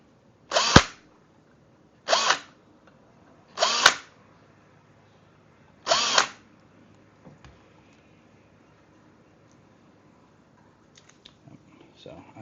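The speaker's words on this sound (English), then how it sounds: "I do apologize if this drill is a little bit loud" Four short, loud bursts of a power drill whirring, spaced a second or two apart, during a 3D printer build, followed by quiet with faint handling noises.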